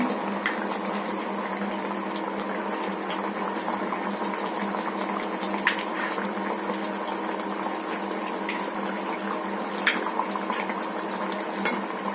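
Fish frying in a pan being stirred, a dense steady sizzle and bubbling with occasional light scraping clicks of the utensil, close and constant, no talking.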